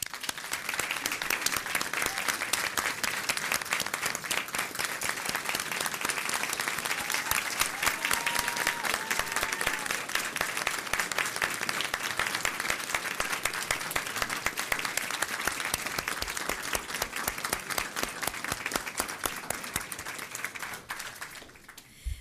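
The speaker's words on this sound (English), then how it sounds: "Can you please stand for a round of applause before Dr. Sanders introduces our team captains?" A crowd at a school board meeting breaks into sustained applause, dense rapid clapping that holds strong for about twenty seconds before thinning out and stopping.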